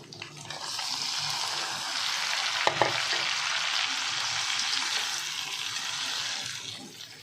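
Eggplant and peas are added to a pan with eggs, frying in a loud, steady sizzle with one brief clatter partway through.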